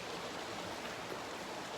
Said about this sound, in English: There's the stream running behind us here.